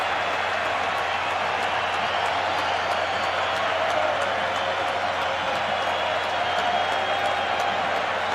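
Steady, dense roar of a large baseball stadium crowd in Atlanta during the 1991 World Series between the Minnesota Twins and Atlanta Braves, a sustained wash of cheering and clapping at constant loudness throughout.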